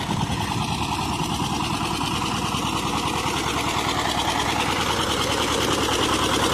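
A small engine runs at high revs with a rapid, buzzing, sewing-machine-like chatter during potato planting in a garden. The sound is steady and close, and no voices come through.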